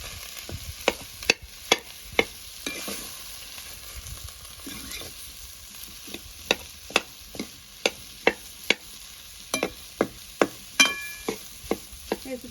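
Repeated sharp knocks and scrapes of a ladle mashing potatoes against a metal pot, in an uneven rhythm over a soft sizzle.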